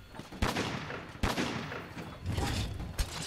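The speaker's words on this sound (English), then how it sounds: "so I just keep shooting until that happens" Gunlance or bowgun shots from a hunter's weapon in the video game Monster Hunter World: three sharp blasts spaced about a second apart, each trailing into a rumbling boom over a noisy fight.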